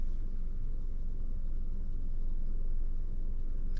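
A manual car's engine held under steady gas, a continuous low rumble that stays even and fairly loud throughout with no speech.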